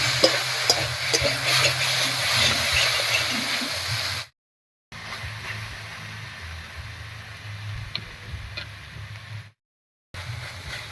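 Taro and tomato being stirred together in a frying pan, a steady sizzle with scraping spoon strokes throughout, broken by two brief silent gaps.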